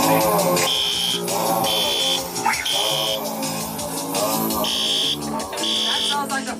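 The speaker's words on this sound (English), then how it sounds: "That sounds like a fire alarm." A fire alarm goes off during a Halloween performance, its buzzer pulsing in repeated bursts of roughly half a second, loud, over a steady musical drone and background voices.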